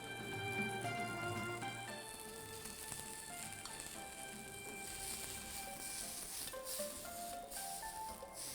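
Carrots, shiitake and bamboo shoots stir-frying in garlic oil give a steady, dense sizzle that runs unbroken from start to end, with a few faint clinks over it.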